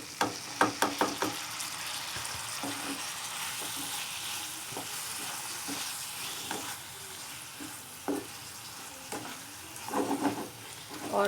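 Achari chili peppers sizzle and fry steadily in a pan with lemon juice being added, a loud continuous crackle broken by repeated spoon knocks and stirring scrapes, close up and with no voices.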